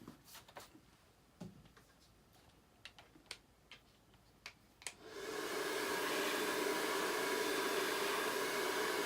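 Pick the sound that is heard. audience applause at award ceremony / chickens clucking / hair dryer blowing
hair dryer blowing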